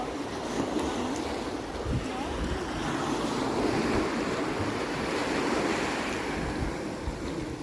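Black Sea waves in Bulgaria wash steadily onto a beach with a constant roar, wind buffeting the microphone throughout; no one speaks.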